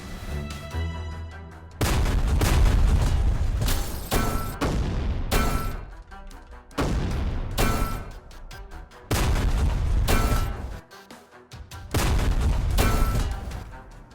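Loud bursts of gunfire and booming artillery from a tank battle in a cooperative Allied combat video game, arriving in several heavy volleys separated by brief quieter gaps.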